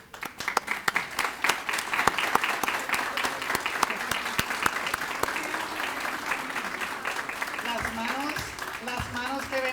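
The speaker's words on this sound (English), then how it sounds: "let us give you a round of applause" An audience at an elementary school's 60th anniversary event applauds past and present school staff, steady clapping with sharp individual claps up front and murmuring voices underneath, fading toward the end.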